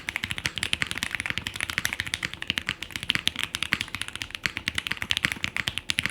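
Fast, continuous typing on a custom-built keyboard, a dense stream of crisp, close keystrokes with no talk.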